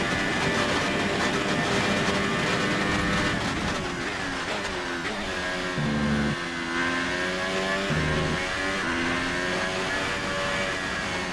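Formula 1 race car engine in the F1 2018 video game during qualifying at Suzuka, Japan, a loud continuous high-pitched whine with rising and falling pitch sweeps through gear changes, filling the whole stretch with no talk.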